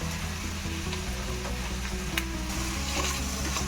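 Capsicum and carrot fry in a pan with a steady, close hiss and crackle of oil, with faint stirring scrapes and no talk.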